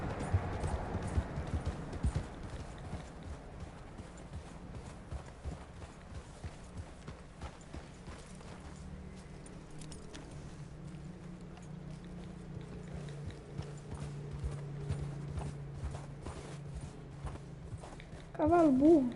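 Horse hooves clip-clop in Red Dead Redemption 2, a steady walking rhythm of hoofbeats throughout, moderately close, with someone speaking over parts of it and a brief louder burst at the end.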